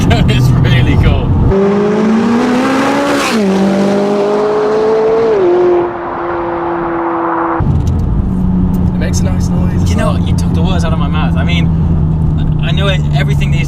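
A McLaren 570S sports car in sport mode accelerates hard, its engine note rising and shifting through gears, loud and close, then settling into a steady drone as wind and road noise build.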